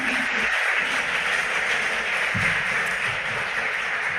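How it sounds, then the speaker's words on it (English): Audience at a school quiz contest in the Ashanti Region applauds for Notre Dame Preparatory, a steady wash of clapping from a hall crowd lasting the whole stretch. "A round of applause for Notre Dame Preparatory."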